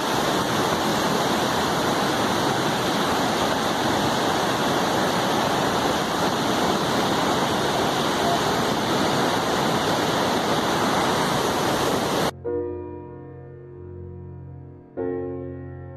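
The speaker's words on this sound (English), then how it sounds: "below the bridge flows a stream of fresh water coming from the melting glacier above" Glacier meltwater stream rushes beneath a bridge in Turtuk, a loud, steady roar of flowing water lasting about twelve seconds before music takes over.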